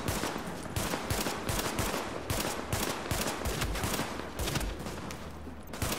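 Rapid gunfire in a video game, a dense, loud stream of overlapping shots and bursts like a fusillade that continues almost without a break throughout.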